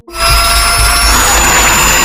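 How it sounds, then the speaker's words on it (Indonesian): A power saw cuts in a tense film scene, a loud, sustained whining grind with a steady high tone that starts abruptly and runs unbroken and close, with no talk over it. "Rupanya Millie berniat memisahkan tangan mereka dengan gergaji."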